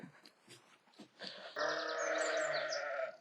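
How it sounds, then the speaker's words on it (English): A sheep bleats loudly in one long wavering call, nearby, after a few softer sounds and faint background noise. "you can obviously hear the sheepies"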